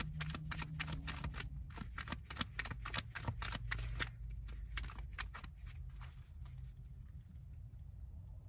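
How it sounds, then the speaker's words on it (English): A deck of playing cards being shuffled, a quick train of soft riffling clicks that thins out toward the end, faint and close over a low steady background hum. "just stop shuffling on that."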